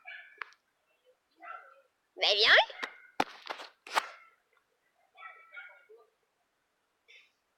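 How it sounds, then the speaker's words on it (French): A dog gives a few short yips and whimpers at close range, broken by pauses, while people talk nearby. "Ah oui, ça fait 2 heures qu'il jappe!"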